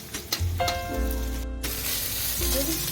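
Egg fried rice sizzles steadily in a hot pan, a loud continuous frying hiss with clinks and scraping from stirring, close up and filling the whole clip.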